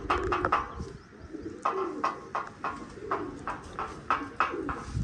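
Pigeons at a loft coo in repeated soft bursts, close and fairly clear, with no voices.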